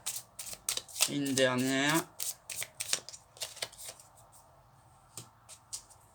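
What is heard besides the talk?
shuffling tarot cards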